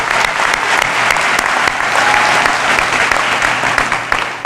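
Steady, loud applause from a large audience at a school's inaugural commencement ceremony, dense clapping sustained throughout without pause.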